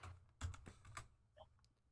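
Keystrokes on a computer keyboard, a quick uneven run of close clicks and taps with short pauses between bursts, no voices.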